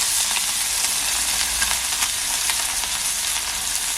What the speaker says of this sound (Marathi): अशा प्रकारे सर्व मासे आहेत ना आई फ्राय करून घेते